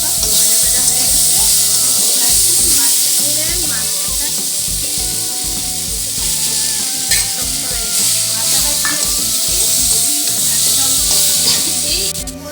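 Chopped eggplant and a fish head fry loudly in a pan, a constant bright sizzle and hiss with stirring scrapes, while a voice talks over the cooking.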